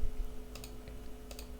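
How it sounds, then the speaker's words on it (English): A computer mouse clicks a few times at a desk during coding work, sharp close ticks in two quick pairs over a low electrical hum. "yeah, I'm clicking stuff"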